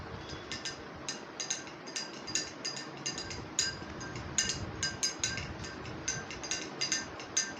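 A metal spoon stirs salt into a glass of water, tapping and clinking against the glass in a quick, steady run of light, close, fairly quiet ticks.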